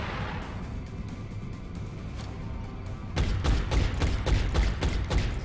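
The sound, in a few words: gunfire from soldiers' Overwatch shots in the video game XCOM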